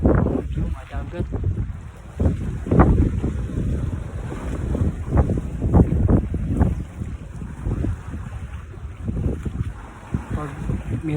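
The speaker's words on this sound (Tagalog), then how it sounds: "masarap dito mga hangin" Wind by the sea at Bual-Bual, Cebu, a steady blustery rush buffeting the microphone with waves and surf beneath, while a person talks throughout.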